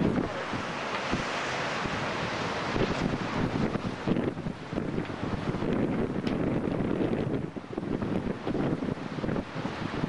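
Strong wind roars continuously and loudly, buffeting the microphone with heavy, rumbling gusts that barely let up.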